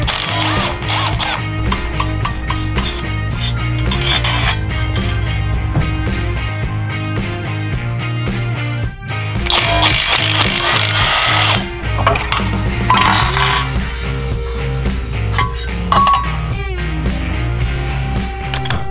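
Predator 212 go-kart engine being stripped, its cylinder head coming off: repeated bursts of a power tool buzzing and whirring, loud and close, with short pauses between runs and no talking.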